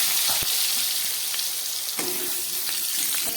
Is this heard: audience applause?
no